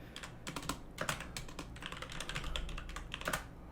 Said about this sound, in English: So all we do here is type in this simple command